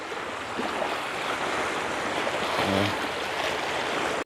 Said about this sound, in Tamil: பெருங்கடல் ஒரு கொஞ்சத்துலேயே வந்து தாக்குற மாதிரியே இருக்குது